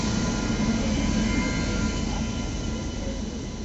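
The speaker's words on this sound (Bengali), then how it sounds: "এই হচ্ছে আমাদের 13153 গৌড় এক্সপ্রেস, যেটা এখন 2 নম্বর প্ল্যাটফর্মে ঢুকছে।" The 13153 Gour Express, hauled by engine 39207, rolls into platform 2, a loud continuous low rumble and rattle of wheels close by, steady throughout with no voices.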